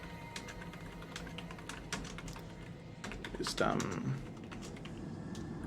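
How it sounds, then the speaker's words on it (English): Fast keyboard typing on a computer during a tabletop role-playing game session, a steady patter of close clicks running under a man's speech, with one brief louder flurry midway. "Let me finish typing this"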